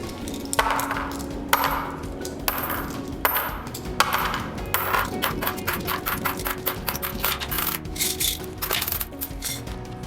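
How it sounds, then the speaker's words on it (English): Pennies and nickels drop one by one into a tape core used as a test boat, each landing with a bright metallic clink, at first spaced apart, then in a quicker, close run of clatters. "One by one, we are going to place coins, like pennies or nickels, inside that core."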